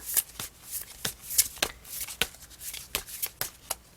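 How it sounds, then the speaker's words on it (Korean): Tarot cards being shuffled by hand, a series of crisp riffling snaps repeating at an irregular rhythm, close and clear with no talking. "추가 카드 뽑아보겠습니다"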